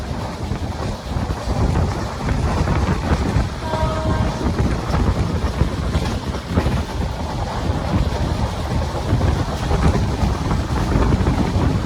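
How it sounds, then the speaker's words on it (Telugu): Train 16381, the Guntakal–Coimbatore service, rolls into Pakala Junction platform with a loud, continuous low rumble and wind buffeting. The noise is steady throughout, with no clear voices. "ప్లాట్ఫామ్ నెంబర్ టూకి అయితే వచ్చింది మన ట్రైన్"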